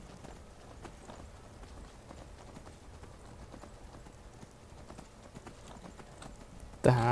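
Hoofbeats of a horse trotting in Skyrim repeat in a quick, steady rhythm at moderate volume for several seconds, ending in a sudden loud burst of sound.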